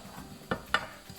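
Spices mixed into rice and goat meat sizzling in a pot make two sharp scraping stirs over a soft, steady frying hiss, close and alone.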